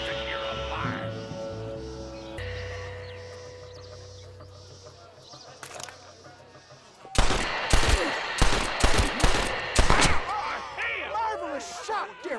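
Rapid bursts of gunfire ring out in a Western shootout in Red Dead Redemption, loud and clustered after a stretch of quieter game ambience, with voices speaking in the scene.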